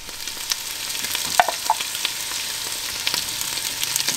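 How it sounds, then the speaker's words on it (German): Carrots and potatoes sizzle as they are sautéed in a pan, a steady crackling fry with a few light scrapes and clinks of stirring. "Ich gebe auch jetzt schon mal Karotten, Kartoffeln mit rein, die man alles so ein bisschen kurz mit anbraten."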